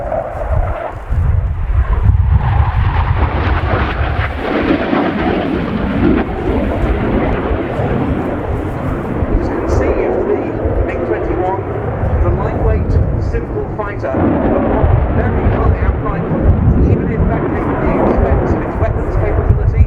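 A Romanian Air Force MiG-21 LanceR C delta-wing jet gives a flying display at RIAT 2019, its loud, rumbling roar filling all twenty seconds and swelling and easing as it passes, while a commentator talks over it.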